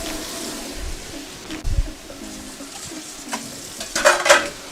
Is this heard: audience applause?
no